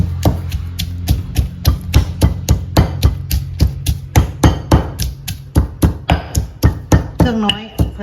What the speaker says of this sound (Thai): โขลกพริก โขลกกระเทียม